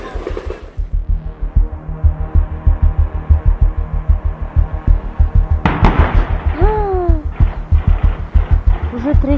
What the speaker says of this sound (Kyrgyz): Уже третья бомба.